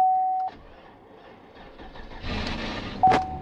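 2015 Chevy Silverado 1500 truck engine starting in a junkyard: a brief crank followed by the engine catching and settling into a mid-pitched run, with a short electronic chime at the start and again near the end.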